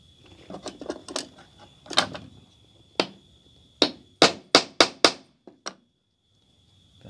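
Holes punched in a PDL boot for fitting a zipper, sharp close hammer strikes ringing out one after another, a few soft taps first and then a fast run of loud blows before it falls quiet.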